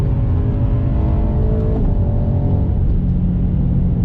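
A BMW E92 M3 driven hard around the Nurburgring, its engine droning loud and steady with shifting harmonic tones as it climbs and eases through corners, continuous and close throughout.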